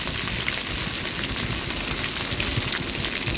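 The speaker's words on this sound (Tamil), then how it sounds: "எண்ணெய் ஊற்றுனதுல கடுகு உளுந்து சீரகம் மூணு சேர்த்து தாளிக்குவோம் கருவேப்பிலை போட்டுக்கிட்டாங்க" Mustard seeds, urad dal, cumin and curry leaves sizzle and crackle in hot oil, tempering a radish sambar, making a dense, steady frying hiss close by with no speech.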